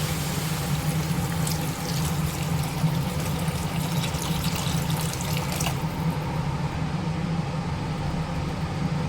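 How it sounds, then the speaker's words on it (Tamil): Water pours steadily into a pan of sautéed vegetables for a vegetable vermicelli breakfast, making a continuous close rushing splash that holds its level and then thins out near the end. "இப்போ தண்ணி சேர்த்துக்கலாம்"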